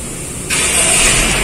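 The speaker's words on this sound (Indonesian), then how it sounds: "Nah, maka mobil akan otomatis nyala ya." A Honda City sedan engine, started by remote, cranks and catches partway through, then settles into a steady, loud idle nearby; no one speaks.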